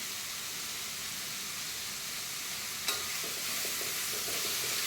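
Cabbage and capsicum sautéing in a pan give a steady, close sizzle and hiss, with a single sharp clink of the stirring spoon partway through and soft scraping after it. No voices.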